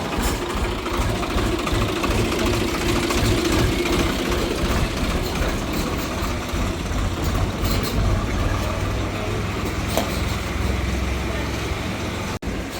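A tractor engine runs steadily for the whole stretch at a village school, a loud continuous low rumble that never drops off.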